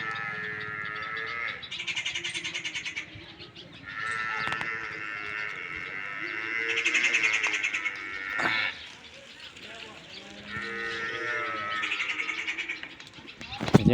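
An unidentified bird calls repeatedly in drawn-out, bleating, wavering cries near a rural home, with several long calls separated by short pauses and a few sharp clicks.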